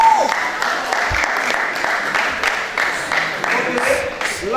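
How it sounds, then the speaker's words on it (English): A round of applause from a university club audience at a charter presentation ceremony, with even clapping throughout and voices talking over it. "Can we give them a round of applause?"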